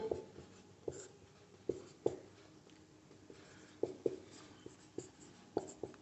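Handwriting on paper, a faint, steady scratching of pen strokes broken by soft taps, with no speech.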